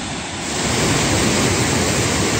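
Water pours over an 8-foot drop on a forest creek in Pisgah National Forest, a steady broadband roar that swells in the first half-second and then holds loud and close with no voices.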